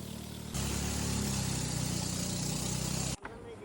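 A steady, loud boat engine drones with a low rumbling hum, running continuously during a river journey before cutting off abruptly near the end.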